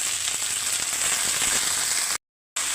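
Leafy greens and boiled mashed potato fry in a pan with a continuous, close hiss of sizzling oil, cut by a brief moment of silence near the end.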